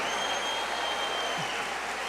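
Congregation in a church applauding, a steady wash of clapping that holds evenly and fairly close throughout, with no voices standing out above it.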